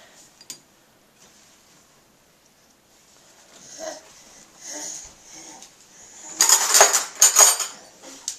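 Silverware and dishes clink and clatter in a dishwasher drawer, starting with scattered light taps and building to a few bright metallic rattles near the end.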